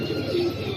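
A pigeon coos close by, a single soft, throaty call that lasts under a second and stands alone with no voices.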